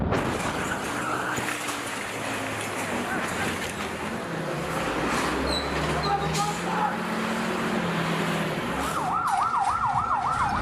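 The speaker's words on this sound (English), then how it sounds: "One of countless ambulance calls overnight in Gaza." An ambulance siren wails overnight in Jabalia, Gaza, its rising and falling tone emerging clearly near the end above a dense, noisy background with a low rumble, while voices speak.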